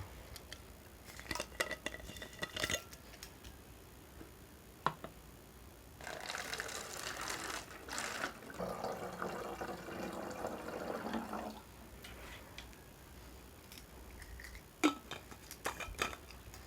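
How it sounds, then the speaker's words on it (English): Hot water is poured into a plastic bottle in a steady, hissing stream lasting several seconds, surrounded by scattered light clicks and handling knocks, fairly quiet and close with no talk. "first you have to fill 1/3 of the bottle with hot water"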